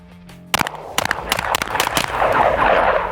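Sharp pistol shots from a Walther PDP Match fired at steel targets, a quick string of several cracks in fast rhythm, followed by a rising outdoor rumble.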